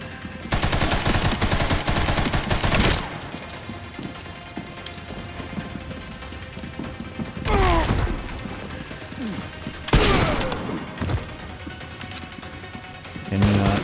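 Machine gun fire in a video game, loud bursts of gunfire that come and go across the stretch along with crashing impacts, with a person talking over parts of it.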